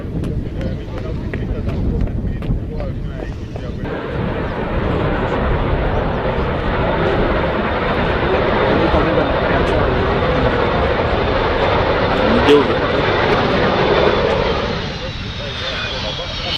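A black-and-white painted airplane belonging to the TP Mazembe football club lands at Lubumbashi international airport, its engine roar loud and steady for most of the clip before easing near the end, with talk over the start.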